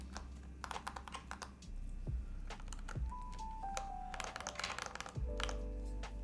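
A Tiger Lite mechanical keyboard build is typed on in a fast, irregular run of crisp close clacks, with a few thocky heavier strokes and faint tones in the background.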